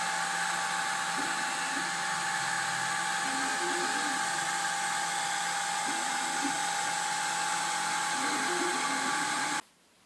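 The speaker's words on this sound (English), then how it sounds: "At the end of the first layer, the fans come on, and the cooling of the print bed or the print surface starts." Cooling fans on a Malyan M180 desktop 3D printer whir steadily with a high-pitched, even hum, while stepper motors chirp intermittently underneath, before the sound cuts off abruptly at the end.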